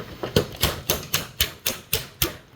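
Seven sharp, evenly spaced taps as a Stanley Power Lock 2 measuring tape knocks pieces into an xTool F1 carrying case, each hit crisp and close with brief silence between.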